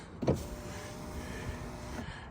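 An Opel Astra power window motor runs after a button block repair, giving a short click followed by a steady, close electric whir lasting about two seconds, with no voices.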